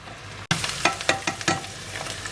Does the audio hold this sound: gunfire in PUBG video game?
no